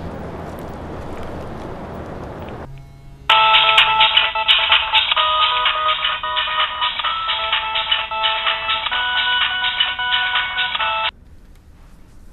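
A phone ringtone plays a bright repeating electronic melody for several seconds, loud and close, then cuts off abruptly, with faint background noise around it.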